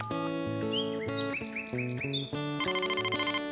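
Cartoon telephone ringing in a preschool animated show, a bright electronic melody with bouncy chirping tones and a rapid trilling ring near the end, loud and close with no talking.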